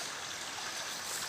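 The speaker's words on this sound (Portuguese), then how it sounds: "já passa um riacho aqui, ó" A small stream running past a rocky grotto on a rural farm, fed by water from a waterfall above, makes a steady, fairly loud broadband rush of flowing water with no pauses and no voices.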